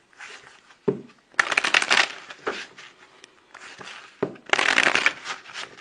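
A deck of tarot cards is shuffled by hand in several bursts of riffling and crisp card slaps, loud and close, with short pauses between shuffles.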